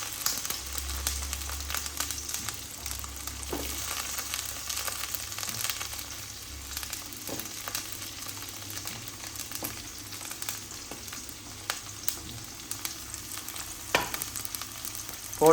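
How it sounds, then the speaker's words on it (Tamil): Small onions sautéing in a pan for a village-style Tamil fish curry, with a steady sizzle and occasional stirring scrapes running throughout at close range, and no talking. "போட்டுட்டு நல்லா ப்ரௌன் ஆகிறதாட்டியும் நல்லா வதக்கிட்டே இருக்கணும்"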